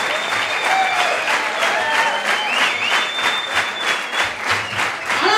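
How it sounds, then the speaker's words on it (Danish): A Danish stand-up comedy audience applauds comedian Mick Øgendahl with steady, dense clapping that fills the room, with some cheering mixed in, holding at full strength throughout. "Skal I klappe jeres hænder til godt mod Mick Øgendahl"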